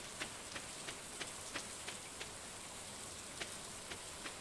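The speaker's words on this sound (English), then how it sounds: "I'm just really enjoying these rain sounds" Rain falls in the Stardew Valley video game, a soft, faint steady hiss with light, evenly scattered drop ticks and no voices.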